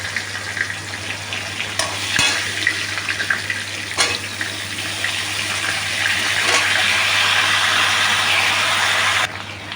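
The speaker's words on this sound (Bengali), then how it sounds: "এবারে মাছের ঝোলটা বসাবো, ফোড়ন দিয়ে দিয়েছি। এবারে আলু পটল দিয়ে দিলাম।" Potatoes and pointed gourd fry in spiced oil in a fish curry pan, giving a steady, close sizzle that grows slightly denser over time, with a few clinks of stirring.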